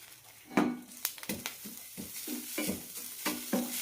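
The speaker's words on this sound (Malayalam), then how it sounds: "ഇനി 1/4 കപ്പ് എള്ള് വറുത്തെടുക്കാം." Washed, still-damp sesame seeds dry-roasting in a pan over a low flame, stirred with a series of irregular scraping strokes and light crackles, fairly close and moderately loud with no voices.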